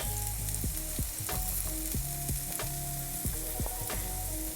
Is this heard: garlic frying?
yes